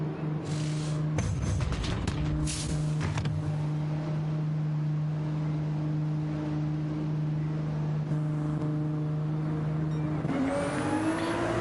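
A race car in the pit lane of a racing game endurance race, its engine holding a steady loud drone with a few sharp clattering bursts early on, then rising in pitch as it accelerates away near the end.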